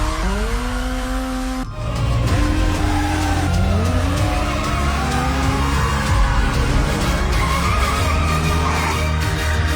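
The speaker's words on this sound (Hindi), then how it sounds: "तभी अचानक एक कार तेजी से जा रही थी, जिसका पीछा 2 बाइक सवार लोग कर रहे थे।" A car speeding past chased by two motorbikes, loud revving engines with rising and falling whines and tire squeal, close and continuous after a brief cut.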